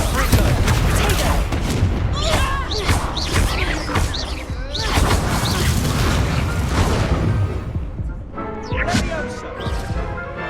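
Dense, loud bursts of crackling spell blasts and booming impacts from Hogwarts Legacy combat come in quick succession, nearly continuous, while a voice repeatedly shouts spell incantations over the fray.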